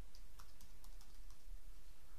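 Computer keyboard typing during a FileMaker database tutorial, a quick run of light key clicks with a few keyboard shortcuts, close and clear with no talking.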